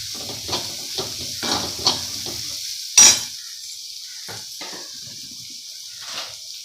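Onions fry in a pan for spinach curry, giving a gentle close sizzle with stirring scrapes and one sharp utensil knock, fading toward quieter sizzling at the end.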